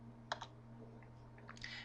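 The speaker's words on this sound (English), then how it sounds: "We start typing" Typing on a computer keyboard, a few quiet scattered key clicks, faint and close, over a low electrical hum.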